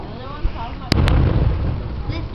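Fireworks explode in two sharp, loud bangs in quick succession, with a rumbling tail under a steady background hiss.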